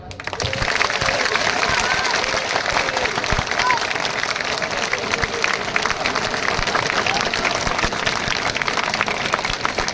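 Loud, sustained applause and clapping from a large crowd at an outdoor political rally in Bilaua, continuous and dense throughout with cheering voices mixed in.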